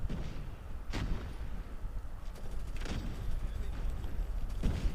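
Repeated muffled booms of grenade explosions in Call of Duty Mobile burst out over a constant rumbling din, three or four blasts spaced a second or two apart.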